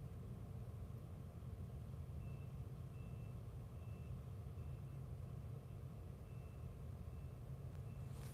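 Reversing beeps from a moving excavator at a rocket launch site at night, repeating as faint evenly spaced tones over a steady low rumble of machinery and distant engines.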